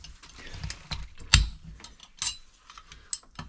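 Ratcheting clicks and small metal tool sounds as parts on a Stihl chainsaw are tightened down on a workbench, with irregular short bursts and one sharper clank, close and fairly crisp.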